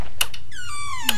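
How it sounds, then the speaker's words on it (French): A door in a horror video game creaks shut with a single rising, drawn-out squeak lasting about half a second, loud and near, framed by sharp clicks. "On ferme la porte."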